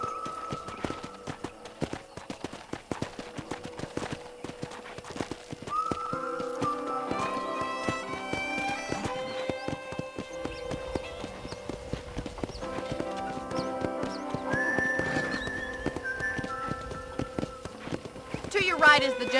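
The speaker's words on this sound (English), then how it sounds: "I picked out a fine horse for you. Gee up!" Horses trot with a steady clip-clop of hooves on a ranch in the video game Red Dead Redemption, while characters talk over the hoofbeats and soft music plays underneath.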